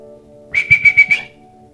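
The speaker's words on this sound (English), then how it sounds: "The officer walked away whistling" A short whistled phrase of five quick, evenly spaced high notes, fairly clear and close, over a quiet low hum.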